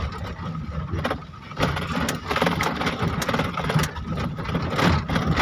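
A car engine hums steadily at mid pitch and swells slightly as the clutch is released in third gear during a road test in rainy conditions, heard from inside the vehicle with no talking.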